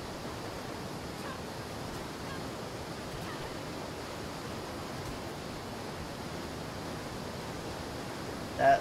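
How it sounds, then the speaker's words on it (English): A loud waterfall in the video game Atlas, a steady broadband roar of rushing water that holds constant and fills the scene without pause, heard alone with no voices. "That waterfall is extremely loud."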